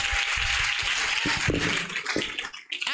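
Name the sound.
congregation clapping for Jesus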